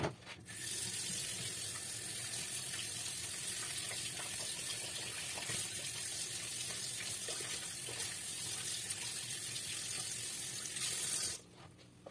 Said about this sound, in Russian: Значит, я сейчас все это только на воде промою.